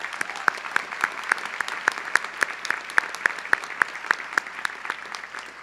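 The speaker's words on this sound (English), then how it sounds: "Please join me in a heartfelt round of applause for them and for their extraordinary service" Audience applause at a 2017 graduation ceremony, many hands clapping in a steady, dense wash with sharp individual claps standing out near the microphone, sustained evenly throughout.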